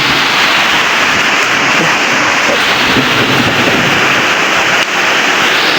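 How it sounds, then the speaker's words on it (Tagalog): Heavy rain pours down in a dense, continuous roar, loud and close with no break. "Medyo malakas na yung ulan."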